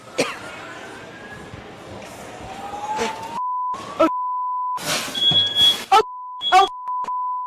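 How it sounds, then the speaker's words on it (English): A building fire alarm set off by cooking smoke sounds as a steady electronic beeping tone with intermittent bursts, preceded by rustling, thumps and muffled noise, with voices heard in the background. "She's causing so much smoke, she sets off the fire alarm in her building."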